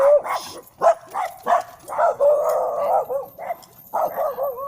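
Household dogs barking and whimpering close by, a run of short loud yelps and whining howls in quick succession, with people talking faintly in the background.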